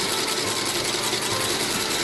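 Industrial stitching machine sewing the inseam that joins the upper to the midsole of a Meindl boot, a steady dense mechanical whir running continuously and fairly loud throughout, with no pauses and no voices.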